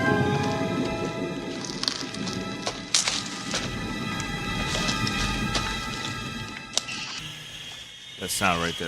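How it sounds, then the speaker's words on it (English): Storm rain in the film First Blood, a steady dense hiss of rainfall with scattered sharper drops and cracks, moderately loud and continuous, while a voice speaks over it near the end. "The storm's coming."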